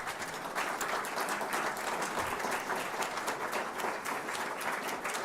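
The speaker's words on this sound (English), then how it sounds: "Please give them a round of applause so I can catch my breath." An audience applauds the Wake Forest football coach's family at his resignation, a steady sustained wash of many hands clapping in a large room, even in loudness from start to finish with little speech.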